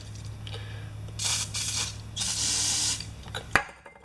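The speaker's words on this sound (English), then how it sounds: "Now a small shot of carb spray through there." Two short hissing bursts of carburetor cleaner spray into a Honda HRA214 lawnmower carburetor, close by, with faint mechanical clicks before them and a sharp tap at the end.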